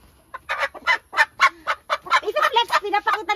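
A Rhode Island White hen clucks repeatedly in a rising, quickening series of close, clear clucks, with no talking over it.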